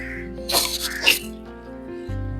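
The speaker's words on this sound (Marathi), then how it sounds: "नुसतं नाक खेचतोय" A child with a cold sniffs wetly a couple of times, short nasal bursts close by, with a low steady hum underneath.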